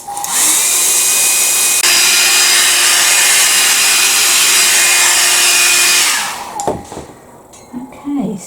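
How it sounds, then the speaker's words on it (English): A loud, steady whooshing hair dryer blows for about six seconds nearby while drying a gel plate reduction print, then cuts off, leaving faint handling noises and quiet rustling. "I'm going to go in with the hairdryer again"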